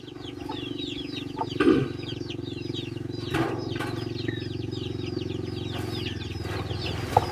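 Chickens in a coop clucking and chattering continuously, with a few louder squawks standing out above a low steady background hum; several birds are heard at moderate distance and nobody speaks.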